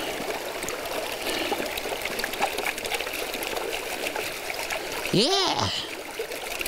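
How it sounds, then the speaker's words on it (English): Material and water are dumped into a gold pan while gold prospecting, giving a steady trickling, splashing wash of water and a sharper splash near the end, with a brief spoken word. "Just dump it right in the pan."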